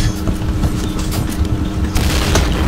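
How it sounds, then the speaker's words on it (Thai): Explosions and gunfire in a clan war video game, heavy booming blasts with rapid crackling bursts, loud and continuous with a sharper burst near the end. "โอ้ยระเบิด"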